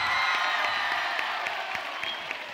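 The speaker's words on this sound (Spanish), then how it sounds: "quiero dar un enorme aplauso a todos los compañeros que van a formar parte de esta mesa" Applause and cheering from an audience at a live panel event on queer diversity greet the panel members, a broad steady roar of clapping and crowd noise with faint whoops and no talk over it.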